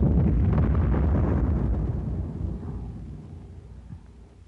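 An 81 mm mortar high-explosive shell with a delay-action fuse bursts on a command post, a deep rumbling boom already at its peak that rolls off and fades over several seconds, with no voices.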